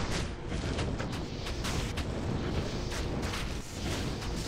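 Exploding potions in the game Diablo II set off a dense, continuous roar of overlapping blasts and rumbling booms, loud and unbroken for the whole span.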